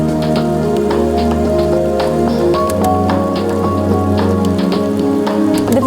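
Steady rain patters densely on the ground, a continuous wash of droplets with scattered sharper drips, alone against a low tonal hum.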